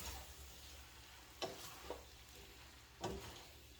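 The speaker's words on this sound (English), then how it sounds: "Give it a nice stir." Pasta being stirred in a pan over low heat, a faint soft sizzle broken by three short scraping clacks of the utensil against the pan, quiet and close with no talk.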